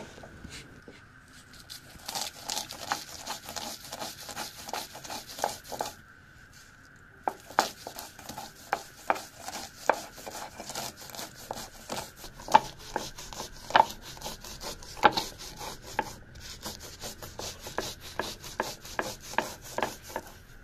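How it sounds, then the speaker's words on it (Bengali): Peanuts and spices are ground on a grinding stone in steady, gritty strokes, a repeated close rubbing and rasping with short pauses between passes. "ভালোভাবে এবার বেটে নেবে।"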